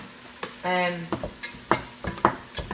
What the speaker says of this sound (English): Just saute these for now.